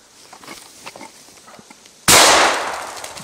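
A single loud shotgun blast rings out while hunting grouse in the Canadian woods, preceded by faint rustling and movement, with a decaying echo afterward.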